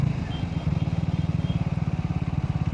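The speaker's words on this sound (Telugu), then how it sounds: "సో ఎగ్జాస్ట్ నోట్ కూడా చాలా బాగుంది. మనకి దీనిలో డ్యువల్ బ్యారల్ ఎగ్జాస్ట్ వస్తుంది" A 2026 Triumph Tracker motorcycle idles through its dual barrel exhaust, a close, steady low thumping pulse with an even rhythm, running alone without talk.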